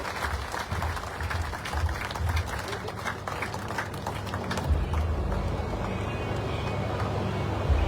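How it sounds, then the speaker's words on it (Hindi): Crowd at a political welcome event for a BJP Kisan Morcha spokesperson in Nawalgarh, clapping loudly and continuously over a low, steady rumble that swells slightly midway. "जोरदार तालियां भाई हमारे जनसेवक विधायक विक्रम सिंह जी जाकर के स्वागत के लिए"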